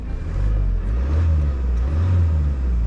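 A Peugeot 508 SW 2.0 BlueHDI four-cylinder diesel engine runs smoothly at a steady, close idle, giving a continuous low rumble with a slight swell partway through.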